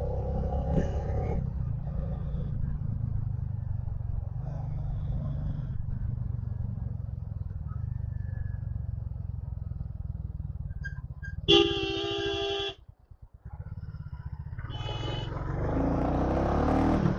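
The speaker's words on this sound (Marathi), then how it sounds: "इकडे ट्रॅफिक झाली थोडी." Steady low engine rumble from a Royal Enfield 350 motorcycle riding through light road traffic on a solo trip from Pune to Dhule, with a brief horn-like burst and a short dip near the end.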